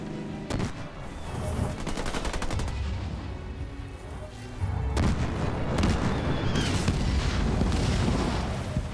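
Sustained gunfire in Halo Wars 2 hammers a base turret, dense overlapping bursts of automatic shots and booms that swell louder after a brief lull, with no talking.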